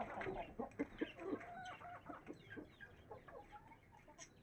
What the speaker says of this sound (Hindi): यहाँ पर अब दूसरी मुर्गियाँ बहुत बेताबी से इंतज़ार कर रही हैं